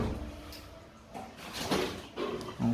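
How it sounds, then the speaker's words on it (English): A Ditec HA 8 automatic door operator swings a door open, giving a low, quiet mechanical hum and faint shifting sounds over a few seconds, with a small click near the end. "Door opens good."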